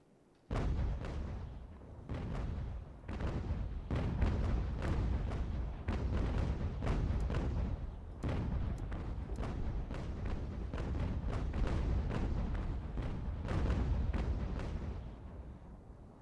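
Repeated heavy naval cannon broadsides in Ultimate General: American Revolution, a dense run of loud booming shots and thuds firing one after another almost continuously, with no talking.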